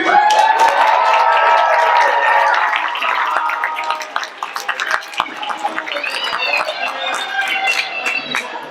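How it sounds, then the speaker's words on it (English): A banquet audience for the 2022 Marching Red Devils band cheers loudly and applauds, with dense clapping and shouts that are strongest at the start and then settle into scattered claps and voices. "Everybody cheer for hopefully COVID being over."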